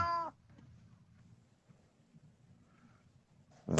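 A cat perched on a railing gives a clear, nearby meow. A second meow cuts in at the end over a quiet, low background murmur.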